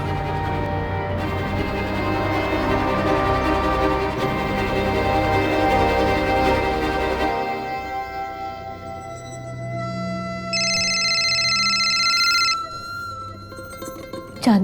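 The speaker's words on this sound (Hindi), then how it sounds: "अभी नेहा को फोन लगाओ।" A telephone rings with a bright, steady electronic tone for a couple of seconds, following a stretch of loud music and noise.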